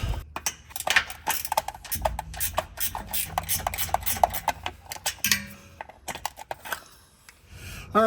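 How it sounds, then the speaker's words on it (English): A gear wrench ratchets an upper heat shield bolt off a Jeep Wrangler or Gladiator frame, giving a close, steady run of quick metallic clicks and scrapes with brief pauses, and no talking. "I'm going to be using a gear wrench to get that one off"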